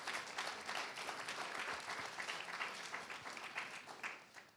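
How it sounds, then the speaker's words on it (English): A conference audience at an art summit applauds after a morning of presentations, a dense, steady wash of many hands clapping that continues throughout and tapers slightly at the end. "can we just have a round of applause for these 5 brilliant presentations that we got this morning?"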